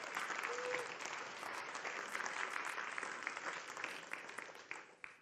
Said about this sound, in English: So let's give him a hand of applause.